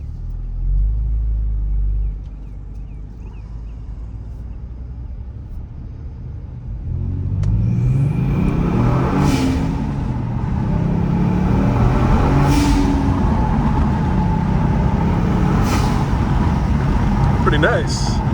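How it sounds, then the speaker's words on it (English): A 2022 Kia Stinger in sport mode with W1 blow-off valves runs on open road, its engine rumbling and rising in steady pulls, with bursts of whooshing release between them, close and loud throughout. "Let's see what these blow-off valves sound like on some open road."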